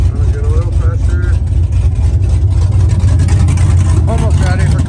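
The engine of a brown truck idles loud and close with a steady low rumble, and faint voices come through in short bursts.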